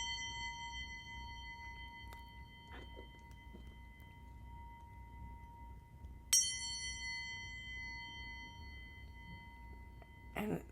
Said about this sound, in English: And the bell sounds just kind of recenter you.